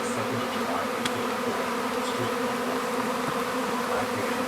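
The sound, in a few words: bee swarm buzzing near shed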